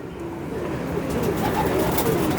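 A pigeon coos softly in low, repeated murmurs against a steady background of ambient noise.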